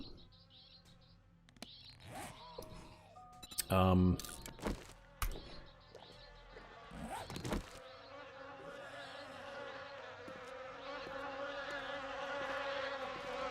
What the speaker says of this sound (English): apparently that must be some kind of swarm of bees or something